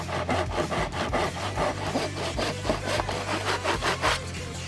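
Hand sawing wood with a back saw in a miter box, a close, rhythmic rasp of quick back-and-forth strokes repeating steadily throughout.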